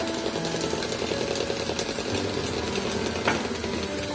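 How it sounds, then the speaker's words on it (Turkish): Electric mixer whisking sugar, eggs, milk and oil into a cake batter for a spinach mole cake, a steady close motor whir with a rattling beat throughout, no talking. "ve çırpma işlemine devam ediyoruz"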